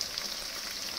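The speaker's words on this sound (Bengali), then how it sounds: "ভেজে নিচ্ছি।" Soybean chunks for chili soyabean frying in a pan, a quiet steady sizzle with a faint stir at the end.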